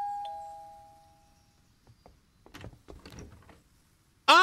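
Doorbell in the video game Umfend, a single clear electronic chime that rings out and fades slowly, followed by scattered soft clicks and footsteps, then an abrupt loud burst at the end.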